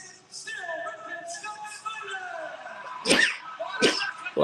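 A single sneeze, followed moments later by a second one, breaks out close by over a soft background of voices and murmur from a wrestling watch-along.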